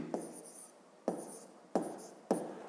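Pen strokes on paper at close range as numbers are written by hand for a fifth-grade arithmetic exercise, four short scratchy bursts spaced about a second apart in a quiet room.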